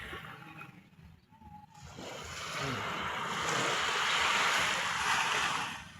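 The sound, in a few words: sea waves at Bucana beach, Nasugbu, Batangas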